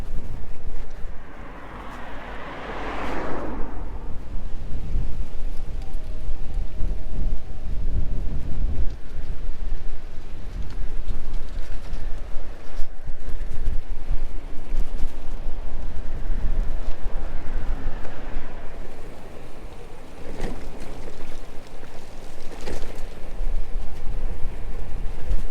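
Steady wind roaring across a microphone on a night bike ride through rural France, a broad continuous rumble with gusts swelling and easing over the whole stretch, no voices.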